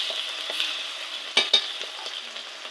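Onion, ginger and garlic paste fries in a pan for chicken curry, a steady close sizzle with a couple of sharp stirring scrapes from a utensil partway through.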